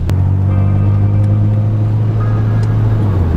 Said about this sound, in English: driving around this car in its current form, having an automatic, is absolute sacrilege